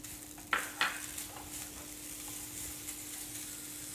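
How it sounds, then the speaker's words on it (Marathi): Jaggery being stirred into a cooking modak filling in a pan, two sharp scraping clicks near the start followed by softer intermittent stirring over a low, continuous sizzle. "गूळ टाकून छान मिक्स करून घेऊया."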